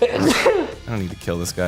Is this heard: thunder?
no